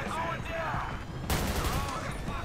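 Rapid gunfire from GTA 5, dense overlapping bursts of shots loud and continuous across the clip, with a sharp intensified volley midway and voices talking underneath.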